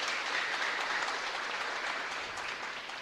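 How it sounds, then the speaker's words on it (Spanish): Applause for a church choir at a Catholic Mass in Santa Cruz chapel, a steady wash of clapping heard at a distance, moderately faint and continuous, with no voices over it. "Un aplauso también para nuestro coro."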